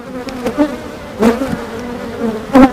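Honeybees buzzing close by during a hive inspection: a continuous droning hum with individual bees swelling louder as they pass near, with no talking.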